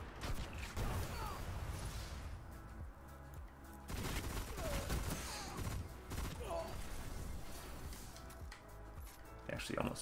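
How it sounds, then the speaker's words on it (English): Rapid gunfire in a video-game gunfight, steady bursts of shots running throughout at moderate loudness, with a voice commentating over the action. "He actually almost won that gunfight."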